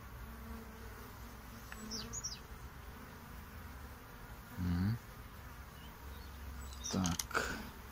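Honeybees in overwintered nucleus colonies near Brno hum with a faint, steady buzz during a hive inspection, with a few louder passes of bees flying close by and a low background drone.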